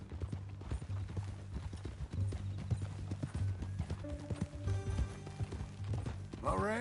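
Video game horse hooves clip-clopping at a steady walking pace on PS4, fairly close, with faint background sounds and a brief snort near the end.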